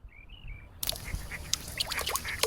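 Several ducks quack in a quick, scattered series of nasal calls, close and fairly clear over a soft outdoor background.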